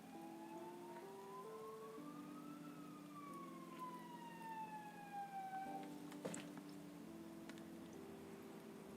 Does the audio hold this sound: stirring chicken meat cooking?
no